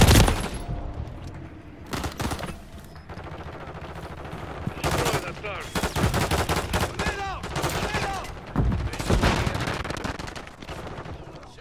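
Gunfire in Call of Duty: Modern Warfare III, with several loud bursts of rapid shots and single cracks spread across the stretch, mixed with in-game voices and ambient battle noise.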